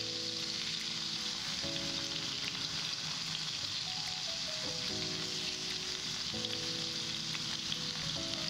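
Rib-eye steak sears in a hot pan with a steady, close sizzle and crackle that runs unbroken throughout, with no voices.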